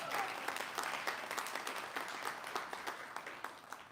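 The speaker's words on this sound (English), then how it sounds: "let's give our staff a big round of applause for helping our graduates." An audience at a college convocation ceremony gives staff a round of applause, with steady, dense clapping throughout that thins slightly toward the end.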